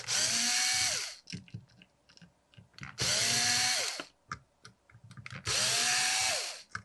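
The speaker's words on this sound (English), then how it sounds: "So we're going to remove those 4 screws out." A power driver spins out screws from the composite body of an Exalt EMEK 100 paintball marker's ignition trigger, three loud whirring bursts of about a second each separated by quieter clicks and handling noises.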